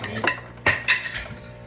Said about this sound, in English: So now we whisk.